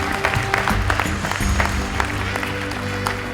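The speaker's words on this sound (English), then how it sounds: "Please give a big round of applause." A crowd at the Midwest India Day Parade applauds the organizing committee, steady clapping heard over a sustained musical drone and background tones, fairly loud and close throughout.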